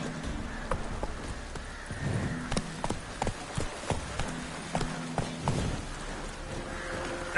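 Roach the horse gallops in The Witcher 3 video game, a steady rhythmic clip-clop of hooves running close by, with rustling and a faint whinny in the mix.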